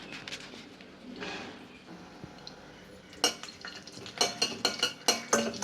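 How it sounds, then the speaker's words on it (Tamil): Fennel seeds and spices crackle and sizzle in hot oil for mushroom veg kurma, with sharp metallic scrapes and clinks of a spoon stirring in a pan growing louder toward the end. "இப்போ எண்ணெய் காஞ்சிருச்சு. நம்ம மசாலா தாளிக்கிறதெல்லாம் போட்டுடலாம்."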